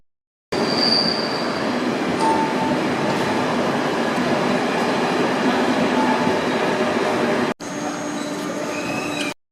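A train rumbles and hisses steadily at close range as it arrives at a platform in Belgium, with faint high squeals of wheels on the rails, then a short break and more rolling rail noise.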